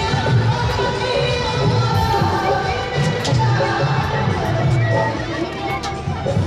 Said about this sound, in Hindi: पीछे देखो भीड़, पब्लिक इतनी सारी है ना